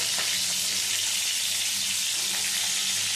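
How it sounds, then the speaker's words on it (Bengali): Pointed gourd pieces frying in hot mustard oil give off a loud, dense, unbroken sizzle, close and steady throughout, with no voices. "এবারে এই তেলের মধ্যে পটলগুলো দিয়ে দিচ্ছি। পটলগুলো সব দিয়ে একটু ভালো করে ভেজে নেব।"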